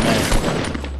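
Video game gunfire landing a headshot: a short, dense burst of close, loud rapid shots lasting about a second.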